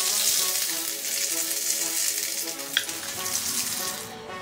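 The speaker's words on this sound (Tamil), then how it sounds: "இப்போ கடுகு நல்லா பொரிஞ்சதும் ஒரு வரமிளகாயும் கொஞ்சம் கருவேப்பிலையும் வந்து சேர்த்துக்கலாம்." Mustard seeds spluttering in hot oil with dried red chili and curry leaves for a tomato chutney tempering, a close continuous crackling sizzle with a few sharper pops.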